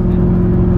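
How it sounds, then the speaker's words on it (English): A Chevrolet Camaro SS, a fifth-generation car fitted with a new alternator, idles with a steady, close, low engine hum and whir that stays even throughout, with no voices. "I'm letting the car run"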